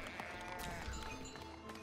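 Sheep bleat over and over in the video game Foundation, a dense flock crowding the scene, with layered overlapping calls and a busy game soundtrack filling the background.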